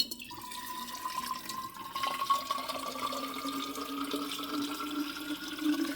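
Water pours steadily into a container for a powdered drink mix, a continuous splashing trickle with a slowly rising tone as the level climbs, close and moderately loud throughout.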